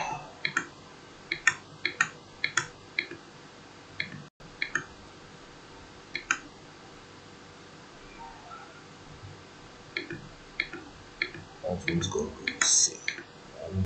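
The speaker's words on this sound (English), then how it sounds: "I'm just going to be fast clicking this." Computer mouse clicks snap in quick bursts and scattered single taps, close and crisp, during Kali Linux setup work, with a few soft rustles and a brief murmur near the end.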